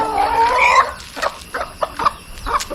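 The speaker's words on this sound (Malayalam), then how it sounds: "ഇവിടെ ഈ പുറത്തുള്ള കോഴികൾക്ക് തിങ്ങാനുള്ള തീറ്റ ഇട്ട് കൊടുക്കുന്നത്" Free-range country chickens cluck and squawk up close while being fed outdoors, a dense burst of calls followed by several short, separate clucks.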